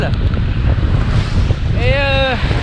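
Gusty storm wind buffets the microphone during a wet road bike ride, a loud rumbling roar with a brief whistling tone near the end.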